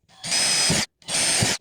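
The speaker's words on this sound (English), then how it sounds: "I'm just gonna drill these holes ahead of time, just so I have a guide hole, a pilot hole." A power drill bores pilot holes in two loud bursts, each close to a second long, with a short pause between them. The drilling is close and there is no talk, part of building a homemade livewell for tournament fishing.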